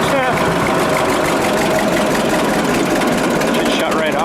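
A 1946 John Deere AR tractor engine runs with a steady, loud, knocking idle, its rhythmic chug continuing throughout and slightly faltering near the end as it begins to shut down.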